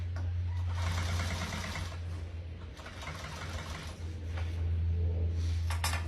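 A sewing machine stitches boat cover upholstery, its motor humming loud and close in several bursts with a brief slowdown between runs and no talking.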